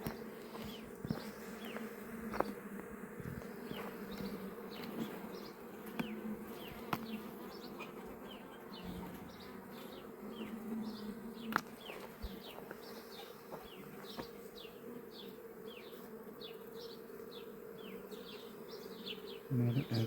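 Honey bees swarm around a hive outdoors, giving a continuous dense buzz with individual bees zipping past close by, while faint voices occasionally talk in the background.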